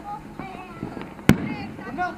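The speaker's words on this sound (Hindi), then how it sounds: "ग्रीन आतिशबाजी इस बार की जा रही है" A single sharp firework bang goes off against a background of crowd murmur and scattered voices at a night-time Makar Sankranti celebration in Jaipur, where green fireworks are being launched.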